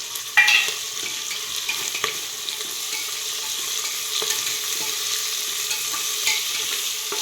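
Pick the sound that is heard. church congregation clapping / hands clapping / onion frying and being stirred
onion frying and being stirred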